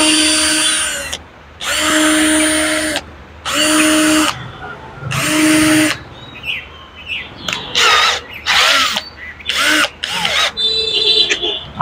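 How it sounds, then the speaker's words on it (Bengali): A cordless battery hammer drill whirs in several distinct bursts, each a loud steady whine lasting about a second, then shorter rapid on-off pulses, with quiet gaps between runs. "এখন আপনি চাইলে হ্যামার ড্রিলের কাজ করতে পারেন"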